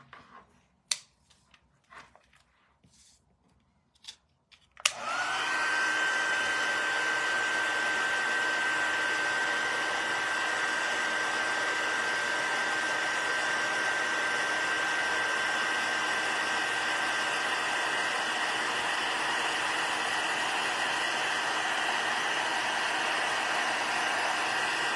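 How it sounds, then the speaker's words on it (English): A heat tool blows hot air onto card paper for Christmas card making, starting after a few light taps and then running as a loud, steady whooshing drone that continues to the end. "then we'll bring in our heat tool"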